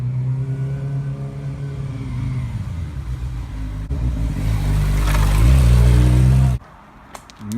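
A car engine idling close by, then revving higher and louder for a couple of seconds before cutting off abruptly, with no voices over it.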